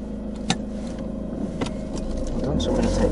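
A car pulls away during a driving lesson, its engine note steady and rising slightly toward the end, with a couple of brief knocks and a voice under the running engine.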